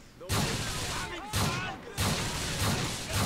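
Shotgun blasts from GTA IV gameplay, three loud booming shots spaced about a second apart, each with a long ringing tail, while someone speaks over them.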